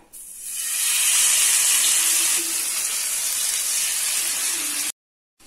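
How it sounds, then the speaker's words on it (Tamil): Country fish frying in a pan of hot oil, a loud, constant sizzling hiss that holds steady for several seconds before cutting off abruptly into silence, with no voices. "இப்போ நம்ம மீதி இருக்கிற மீனையும் வறுத்து எடுத்துடலாம்"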